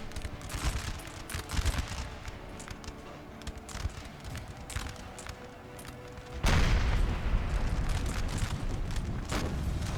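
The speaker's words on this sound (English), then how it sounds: "Oh, it's taking some devastating blasts from the artillery." Deep booms of Napoleonic-era artillery rumble in the battle game Napoleon Total War, with repeated blasts over a constant din of distant musketry that swells louder partway through.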